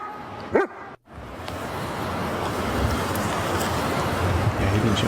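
A dog barks once up close, then wind noise fills the rest, with no voices.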